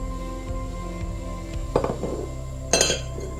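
New dishes being handled in a kitchen, two distinct clinks of ceramic or glass against each other over a quiet background.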